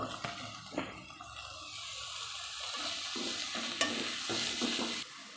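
Crushed ginger, garlic and green chili fry in a pan for mushroom curry, giving a steady close sizzle with stirring scrapes and a few clinks, no talking.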